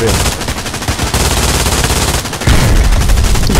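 An MG42 machine gun in Hell Let Loose fires sustained rapid bursts, loud and close, rattling almost without pause and swelling heavier near the end.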